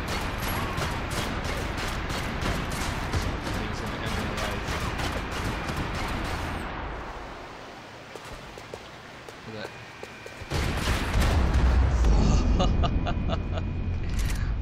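Gunfire and heavy artillery shell blasts from the video game Max Payne 3, loud dense crackling bursts throughout, with a deeper boom near the end and voices talking over the noise.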